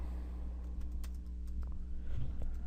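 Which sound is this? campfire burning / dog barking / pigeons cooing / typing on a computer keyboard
typing on a computer keyboard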